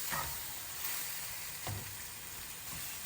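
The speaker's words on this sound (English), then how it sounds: "Now continue cooking this on high heat" Peanut chicken stir-fry cooking in a pan on high heat, a steady close sizzling hiss with a few faint stirring knocks, no voices.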